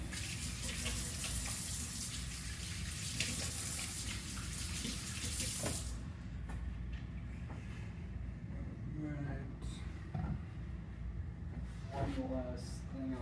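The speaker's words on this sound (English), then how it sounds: "All right, let's get hands washed." Tap water runs loudly into a sink as hands are washed beneath it, a steady close gush for about six seconds before shutting off, leaving faint kitchen clatter and some talk behind.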